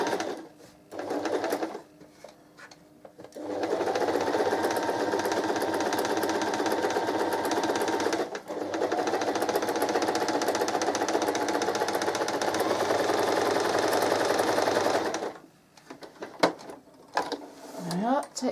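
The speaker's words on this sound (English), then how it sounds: "And then we're going to sew coming back the other side." A sewing machine stitching half square triangle fabric runs in a long, steady, close whirring burst, preceded and followed by brief handling clicks and short starts.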